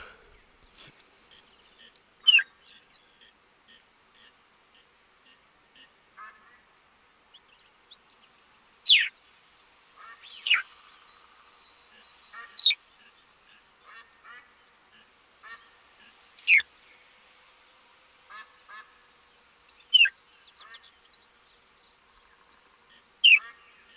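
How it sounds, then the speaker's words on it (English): Ducks in The Hunter: Call of the Wild give short, sharp quacks at scattered intervals across a quiet background, each call brief and moderately loud, with no voices. "That's a lot of ducks."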